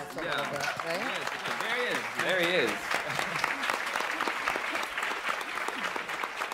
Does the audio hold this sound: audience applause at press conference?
yes